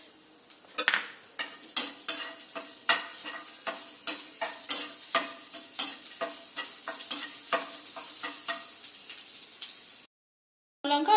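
Halved dried red chillies and garlic cloves frying in hot oil for a dal tempering, a bright crackling sizzle punctuated by regular sharp spatula taps against the pan, close up, cutting off abruptly near the end.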